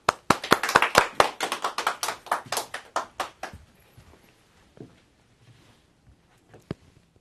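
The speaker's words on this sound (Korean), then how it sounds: "여러분 박수로 모시겠습니다" Applause from a lecture audience welcoming a guest speaker at a real estate talk: a burst of sharp, close claps for about three and a half seconds, then it dies away into near silence with a few stray taps.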